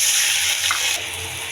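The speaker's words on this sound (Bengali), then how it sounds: "এখন রসুন আদা বাটা দিয়ে দিলাম, একটু পানি দিয়ে দিব।" A splash of water pours into frying onion with garlic-ginger paste, a loud close hissing rush that settles into a softer bubbling sizzle.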